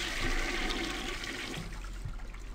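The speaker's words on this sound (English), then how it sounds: "Why can we flush the toilets?" A toilet flushes in the video game Lakefront Restaurant, a loud rushing swirl of water that drains steadily and tapers toward a trickle, heard alone without speech.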